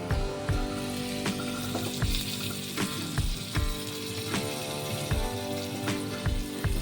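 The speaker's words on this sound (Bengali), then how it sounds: "রসুনটা কিন্তু এরকম একটু ভাজা ভাজা হতে হবে" Chopped garlic and curry leaves frying in hot oil in a pan, a loud continuous sizzle with popping crackles and repeated spatula scrapes and knocks against the pan, close up.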